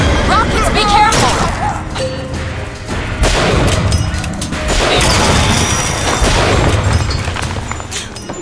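Rocket explosions in a video game crash and boom repeatedly amid a dense, loud barrage of impacts and gunfire, with game voices heard between the blasts.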